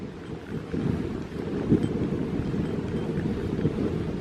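Steady wind buffeting a microphone at a railway station in Yorkshire, a broad low roar with gusty swells and no voices.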